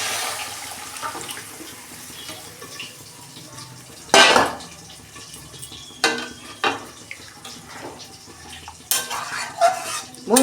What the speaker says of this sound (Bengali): এখন বেগুনটা দিয়ে দিচ্ছি। এই যে ঝোলটা ঢেলে দিচ্ছি।